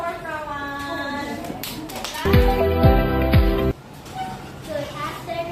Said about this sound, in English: Let's clap for Prawan.